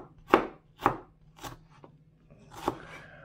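Knife slicing potatoes thinly on a board, five distinct crisp chops at an uneven, unhurried pace, close and quiet.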